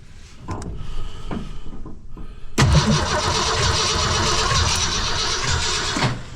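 A 1966 Ford Fairlane with a Z-code 390 FE V8 and 4-speed gets a few clunks and cranking, then catches and roars into a loud, steady close idle that runs for several seconds.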